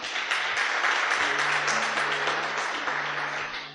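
A church congregation applauds during a sermon, dense, sustained clapping that fills the room evenly, with a low sustained organ or keyboard tone underneath as the clapping tapers at the end.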